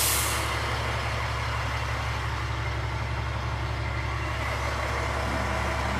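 North Carolina fire truck engine idling steadily with a deep low rumble and constant hum, continuous and fairly loud throughout with no talking.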